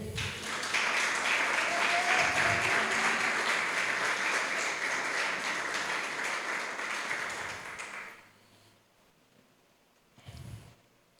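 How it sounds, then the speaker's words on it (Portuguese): A church congregation gives sustained, loud applause for about eight seconds during a sermon, then it cuts off sharply, leaving near silence with one brief low thump. "Você pode dar uma salva de palmas para ele?"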